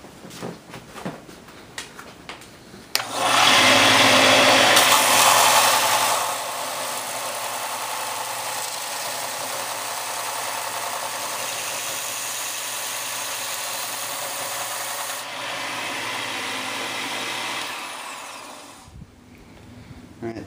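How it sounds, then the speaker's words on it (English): Belt sander grinding the top edge of a Kydex magazine carrier, a loud steady whirring rasp that starts abruptly after a few quiet seconds, holds for about fifteen seconds and winds down. "we're going to now do the top edge on the belt sander"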